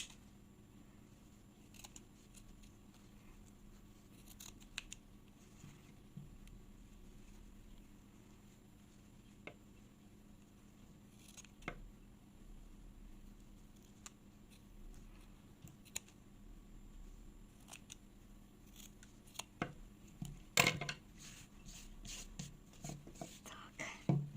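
Sharp scissors snip through fabric while a skirt for a traditional folk rag doll is trimmed, faint scattered cuts and rustles in a quiet room, growing busier toward the end.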